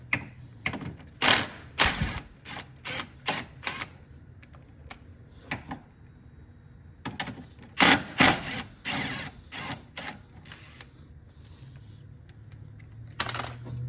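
Two 13mm sway bar bolts on an Audi A6 Quattro are loosened with a ratchet, bursts of rapid clicking and clanks in clusters, close and moderately loud, separated by quiet pauses.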